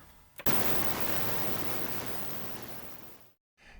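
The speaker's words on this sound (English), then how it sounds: "the ultrasonic cleaner doesn't actually sound, particularly loud, but I guess to the camera it does" Ultrasonic cleaner running with photo-etch parts inside, a steady broadband hiss that starts abruptly, holds at an even level for about three seconds, then cuts off; no voices.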